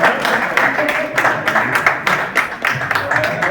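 Rhythmic group clapping from an audience at a Vedic-style birthday celebration in a spiritual yoga ashram in Indore, steady and moderately loud with repeated beats throughout.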